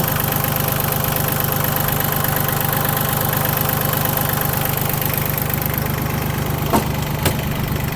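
Yanmar YM1601D four-wheel-drive tractor engine idling steadily with a constant low rumble throughout, and a couple of faint knocks near the end.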